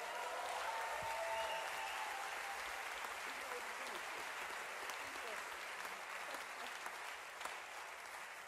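Applause from a concert audience, a dense, steady wash of many hands clapping at moderate distance, holding level for several seconds before easing off slightly near the end.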